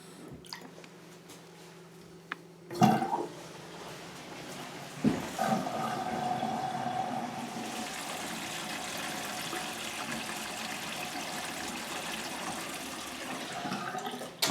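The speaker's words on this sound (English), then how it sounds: "Then I just fill the sink up, you know, probably about halfway or so, and then release the stopper, let the water run" Water draining from a half-filled bathroom sink after the stopper is released during a P-trap leak repair, a sudden release followed by a steady rushing, gurgling flow down the drain that runs on continuously, close and alone.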